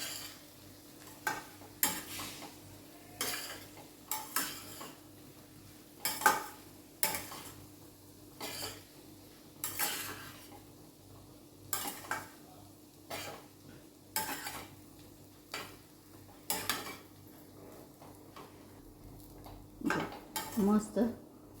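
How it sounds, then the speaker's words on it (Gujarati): Veg biryani is stirred in a pot with a metal spoon, making sharp clanks and scrapes against the rim every second or two over a faint background hum. "હવે આને આપણે હલાવી લેવાનું છે"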